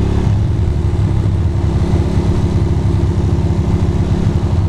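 A Ducati motorcycle rides through slowing traffic in 26°F freezing cold, its engine giving a close, steady, pulsing rumble that fills the whole stretch with no talking.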